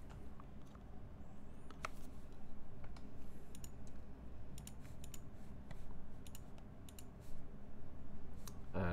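Typing on a modded mechanical keyboard fitted with a metal keycap, quiet clicks and taps in irregular bursts over a low background hum.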